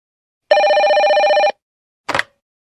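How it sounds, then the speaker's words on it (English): A telephone rings once in a single steady, trilling burst of about a second, loud and close, followed by a short pause and a brief clatter like the handset being picked up; no one speaks. "Hello? Hello? Who is this?"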